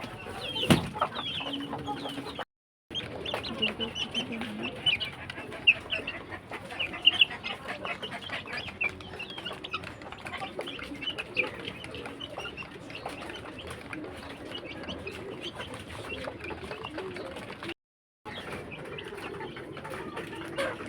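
Village chickens cluck steadily while being fed in the morning, a continuous busy chorus from a flock nearby, with brief gaps of silence.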